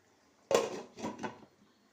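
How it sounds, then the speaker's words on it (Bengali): A lid is set down on a cooking pot of chicken curry over low heat: a quiet metallic clack followed by a couple of softer rattling knocks as it settles, close and isolated in a quiet kitchen. "আঁচটা কম করে আমি চাপা দিয়ে দিচ্ছি"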